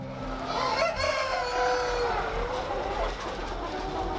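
Breeder hens and a rooster on a poultry farm, with crowing and clucking carried over a steady barn-wide din of many birds, fairly close and continuous throughout.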